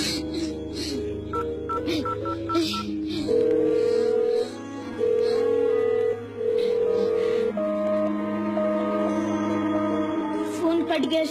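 A telephone line tone: short dialing beeps, then long steady electronic tones in a repeating pattern over a low hum and faint voices.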